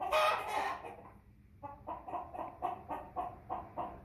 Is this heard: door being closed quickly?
no